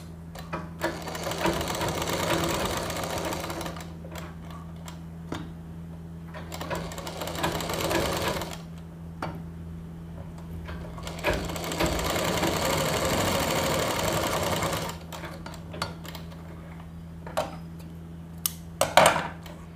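A sewing machine stitches fabric in two long bursts of steady whirring, with quieter pauses between and a few clicks and handling knocks near the end.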